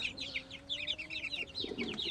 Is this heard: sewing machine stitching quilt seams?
no